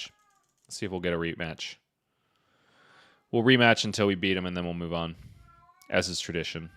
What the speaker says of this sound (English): If you hear that wailing sound in the background, that's my other cat.